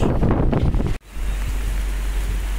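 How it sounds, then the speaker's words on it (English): Strong gusts of wind and rough water batter a marina during Hurricane Harvey, making a loud broadband roar close to the microphone. The roar cuts out briefly and then resumes. "It's pretty windy out here."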